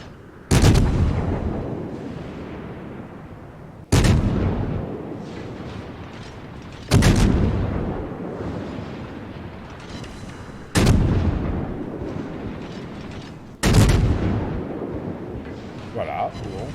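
Naval cannon fire in World of Warships: five heavy booming salvos roughly three seconds apart, each a loud sharp blast fading into a long rumble, with someone talking over them.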